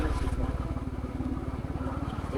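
A motorcycle rides along a road with the rider's hands off the handlebars, its engine putting out a steady, close, pulsing low rumble throughout, no talk heard.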